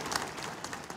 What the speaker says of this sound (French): Applaudissez pour mon frère